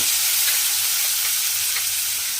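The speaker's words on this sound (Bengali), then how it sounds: "সেই আলুগুলোকে আমি এই তেলের মধ্যে দিয়ে দেব।" Thin-cut potato strips frying in hot oil, a continuous loud, bright sizzle that stays close and steady from start to finish with no talking.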